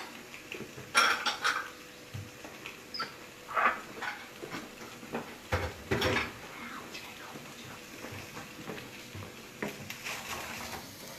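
A spatula stirs white spring onion in a non-stick pan, making irregular clinks and scrapes of utensil against pan in short bursts, fairly quiet, with no steady sizzle.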